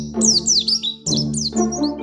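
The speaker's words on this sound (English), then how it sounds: "Bird sounds." Recorded birdsong played through an Alexa smart speaker indoors: two loud, clear phrases of repeated descending whistled chirps, one after the other with a short gap between them.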